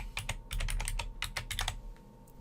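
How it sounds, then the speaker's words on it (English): Rapid keystrokes on a computer keyboard while entering names into classification software, a quick irregular flurry of soft clicks, close and fairly quiet, with no talk. "I click Add and type the name of each value"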